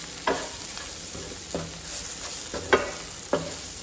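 Spices stirred and fried in a pan with melted fat for a Goan-style brinjal dish: a steady sizzling hiss broken by regular scraping strokes of a spoon, about every half second, close and clear.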